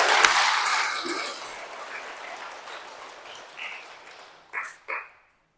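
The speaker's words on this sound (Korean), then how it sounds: "박수 한번 쳐주세요" Church congregation applauding during a Catholic Mass, a dense wash of clapping that swells at the start and slowly fades, ending with two short bursts of claps.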